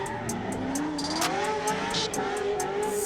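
A 600HP sequential-gearbox C6 Corvette drifts in Ireland, its engine held high and wavering in pitch as revs rise and dip, with tire squeal and a steady roar close by throughout.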